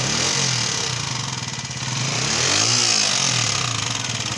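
A 2010–2014 Keeway Superlight 125 motorcycle engine revs up and down with a rough, pulsing mechanical rumble, loud and close, with no talking.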